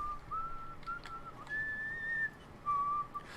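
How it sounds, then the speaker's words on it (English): Codsworth, the robot butler in Fallout 4, whistles a wavering tune in several short phrases over a quiet game background, with no one speaking. "Codsworth whistles."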